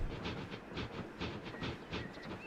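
A model train runs along its track on a layout, giving a regular clickety-clack rhythm of wheel beats with a faint hiss and a brief whistle-like tone near the end, close and steady.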